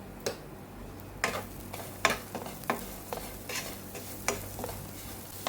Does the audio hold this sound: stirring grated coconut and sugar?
yes